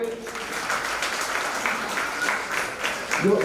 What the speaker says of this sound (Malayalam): ഒരു കയ്യടി കൊടുക്ക്